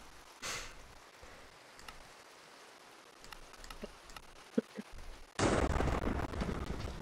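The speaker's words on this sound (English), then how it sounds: "It's just attracting the lightning." Thunder from a lightning strike in Minecraft hits as a sudden loud broad rumble that sustains near the end, preceded by a brief crack and a few faint clicks and taps.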